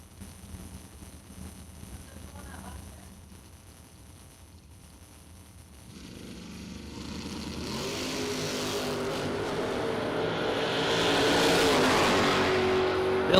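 Drag racing cars, among them a 1969 Camaro, launch from the starting line: a quiet idle rumble gives way to rising engine roar that builds and grows louder toward the end, with no talking.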